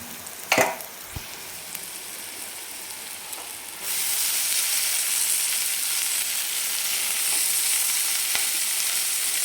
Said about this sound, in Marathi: आपण याच्यामध्ये आता भाजी टाकून घेणार आहे तर भाजी टाकून घेते